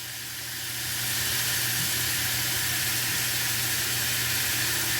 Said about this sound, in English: we pretty much want to let those saute until they become translucent